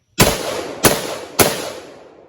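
Three sharp rifle shots from an LWRC IC DI AR-style rifle, spaced roughly half a second apart, each a loud close crack with a short ringing decay.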